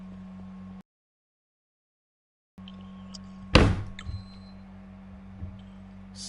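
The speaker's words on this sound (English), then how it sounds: "I accidentally slammed my desk" A desk slammed by accident, a single loud, sharp thump close by, with a short rattle after it, over a steady low electrical hum.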